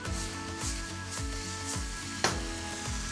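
Honey soy duck being tossed with Vietnamese mint and Thai basil in a hot pan, giving a steady sizzle with rhythmic scraping sweeps and one sharper knock of utensil on metal.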